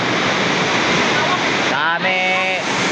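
River water flows fast under a bridge, a close, steady rushing roar. A voice breaks in briefly near the end over the flow.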